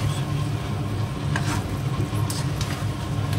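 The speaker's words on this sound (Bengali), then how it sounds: "আলুটাও কষা হবে, তার সঙ্গে মাংসটাও কষা হবে" Chicken and potatoes sauté in oil for Bengali chicken kosha, giving a loud, steady sizzle close by with brief scraping stirs of a spatula mixed in.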